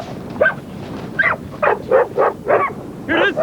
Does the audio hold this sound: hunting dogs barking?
yes